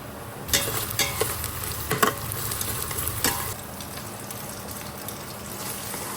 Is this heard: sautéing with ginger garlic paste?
yes